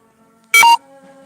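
A mobile phone gives a short, loud electronic beep burst of tones, standing alone over a quiet room background with faint low hum before and after.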